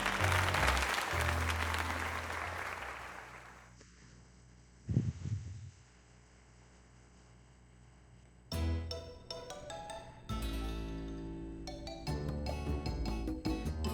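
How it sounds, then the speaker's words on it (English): Crowd applause in the Pokemon Legends: Z-A video game, a loud burst of clapping that fades over about four seconds, followed by quieter game chimes and music. "Now then, let us give another heartfelt round of applause to Emily"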